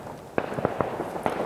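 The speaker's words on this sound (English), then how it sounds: "fireworks are going off." Fireworks bursting outdoors at night near a lakeshore, several sharp pops spaced irregularly over a steady background hum, moderately close.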